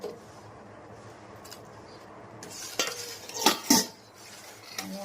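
Kheer of milk and rice with sugar, nutmeg and cardamom simmers in a pot, with quiet background then a few clinking, scraping stirs of a metal spoon against the vessel near the end.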